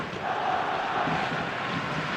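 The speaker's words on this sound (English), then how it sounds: "The stadium is full of noise and energy." Stadium crowd in eFootball (PES) during a tense match against a Division 1 opponent: a steady, dense roar of many voices with a faint chant-like tone, continuous and fairly loud, with no distinct spoken words.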